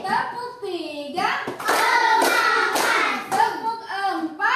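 Classroom of children doing a rhythmic group clapping routine, with bursts of sharp clapping from the class alternating with a teacher's chanted call and the children's sung responses.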